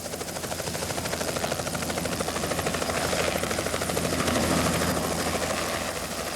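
A helicopter's rotor thumps steadily and loudly throughout while moving live salmon, a continuous rhythmic chopping with a deep engine rumble that swells slightly toward the middle.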